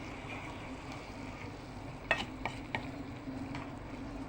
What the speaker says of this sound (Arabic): هنقلبه في بعضه